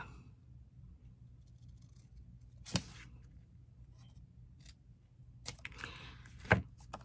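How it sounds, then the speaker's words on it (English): Two or three separate close scissor snips cutting diagonally through the corners of a small 1 by 4 inch paper label, each a short crisp cut over a quiet room hum. "Snip diagonally in from the corner this way."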